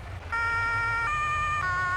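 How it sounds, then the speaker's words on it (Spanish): Fire truck siren in the video game Farming Simulator 22, a loud electronic wail that steps between tones in sustained held notes, starting abruptly after a short moment and continuing without talk. "¡La sirena! La tengo puesta para algo."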